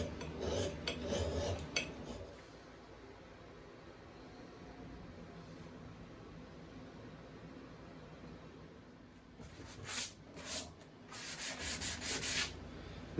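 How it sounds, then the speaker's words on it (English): A file is drawn across the steel head of a splitting axe, steady faint rasping strokes, then louder sharper scraping strokes bunch together near the end, with no voices. "what I'm doing here is just a little bit of draw filing"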